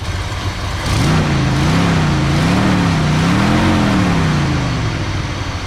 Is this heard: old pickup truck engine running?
yes